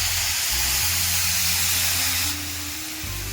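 Water poured into a pan of cooking bottle gourd and potatoes sets off a loud, steady steaming hiss and sizzle close up, easing slightly toward the end.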